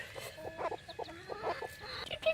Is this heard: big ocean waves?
no